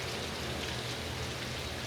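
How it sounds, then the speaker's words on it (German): Steady, dense rain hisses continuously in the World War II strategy game War Front: Turning Point, an even wash of sound with no voices over it. "Verdammter Regen!"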